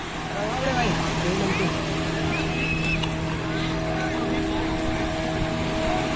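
Motorboats run on the water at Nagva Beach in Diu, a steady engine drone with tonal hum filling the whole stretch from a moderate distance, with voices talking faintly underneath.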